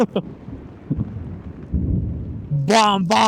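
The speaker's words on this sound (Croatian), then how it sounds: "Gledaj ovo kako grmi" Thunder rolls during a rainstorm in the Austrian Alps as low, uneven rumbles at moderate distance, then a voice speaks over the end.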